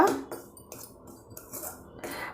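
Raw rice dry-roasting in a kadai over a gas flame, with close scraping and rattling of grains and a ladle against the pan in short repeated strokes.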